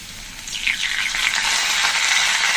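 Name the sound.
spices and sour yogurt frying in a pan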